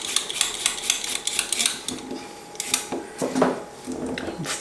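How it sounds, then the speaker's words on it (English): Carrots are peeled for split pea soup, giving repeated quick scraping strokes in an irregular rhythm, close and fairly faint, with small kitchen clatter and no talk. "let's peel a couple carrots."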